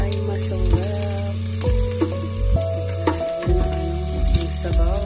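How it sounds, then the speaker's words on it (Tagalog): Garlic browns in a frying pan for chicken tinola, a close, loud crackling sizzle with clattering stirring and utensil knocks throughout, no voices. "I-brown natin yung bawang."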